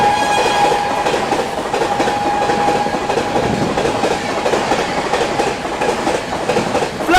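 New Delhi–Ranchi Rajdhani Express overtaking at 130 km/h, a loud continuous rush of rolling wheels with a rhythmic clatter and a high whine, heard close alongside with no talk.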